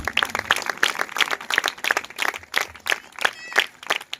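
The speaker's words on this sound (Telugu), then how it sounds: "చప్పట్లు కట్టున్నాను" Rhythmic, evenly spaced hand clapping from a church congregation at a gathering, steady beats about three per second, with voices talking and calling out over it.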